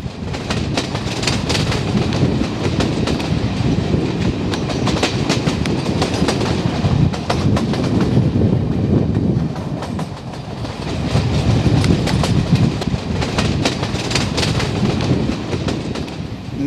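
A pilgrimage train carrying a Sikh congregation rolls steadily along the rails, a loud, close, continuous rumble with rhythmic clickety-clack from the wheels and no voices.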